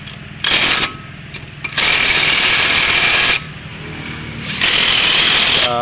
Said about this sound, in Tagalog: Portable impact wrench.